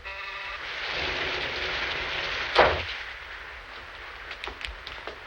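Rain falling outside in a classic film scene, a steady broadband hiss of downpour with a sharp loud thump or crack partway through, then quieter rain with scattered small knocks.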